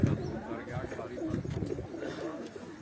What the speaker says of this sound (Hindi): ये तकरीबन 160-168 कबूतर हैं जो हमने